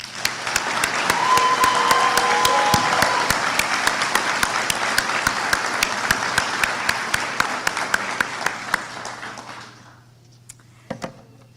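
Commencement audience at the University of Maine at Machias 2023 ceremony applauding, a loud sustained wash of clapping with sharp individual claps, fading out near the end into near silence with a few scattered sounds.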